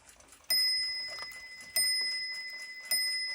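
An 1891 Waterbury repeater alarm clock striking: three sharp bell strokes about a second apart, each ringing out and slowly decaying, close and clear.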